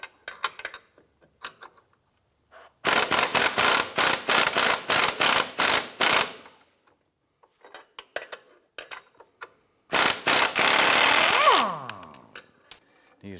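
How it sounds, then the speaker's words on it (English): A wrench loosening and removing a control arm bolt on a Ford 500: bursts of rapid metallic ratcheting clicks, close and sharp, separated by quiet pauses, with a final longer run that trails into a bolt being spun free. "hold the nut, and loosen and remove the bolt."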